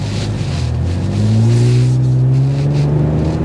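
2024 Toyota Camry TRD V6 driving and turning, with a loud, close engine drone whose low hum climbs gradually in pitch, plus faint road and wind noise and no talking.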